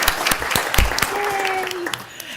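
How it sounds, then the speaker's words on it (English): Audience at a Norwood Board of Education meeting claps in a short, scattered burst of applause, close and moderately loud, with a voice speaking over it. "So at this time, I'd like a big round of applause for our board star, Amber Ballard."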